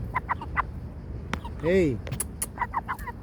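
A backyard chicken clucks in a garden among bean and gourd plants, a few short close calls and one drawn-out squawk, with a person speaking briefly nearby.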